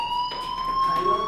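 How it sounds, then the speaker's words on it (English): A fire alarm rings in the video game Life is Strange, a steady high electronic tone sustained throughout, with a faint voice underneath. "Hey, do you hear that fire alarm?"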